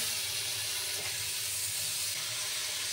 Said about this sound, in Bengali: এই দেখো, লাউগুলো দিয়ে দিচ্ছি।